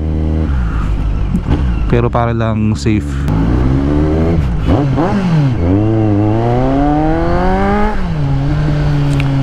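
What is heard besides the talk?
loud motorcycle exhaust revving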